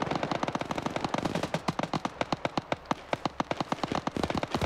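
Heavy automatic gunfire in a military simulation battle between Portuguese forces and MPLA fighters, a dense continuous stream of rapid shots that gives way to distinct bursts of separate cracks, loud and close with no talking.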